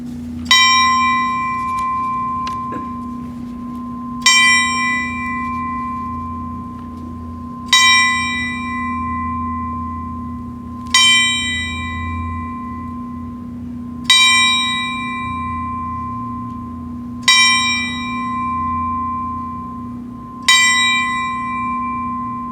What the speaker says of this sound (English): the Vietnam Veterans of America Chapter 1071 will now ring the honor bell